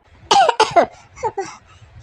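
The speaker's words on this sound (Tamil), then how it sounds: "என்ன திடீர்னு இருமல் வந்துருச்சு." A few close, sharp coughs in quick succession, followed by a softer pair of coughs after a short pause.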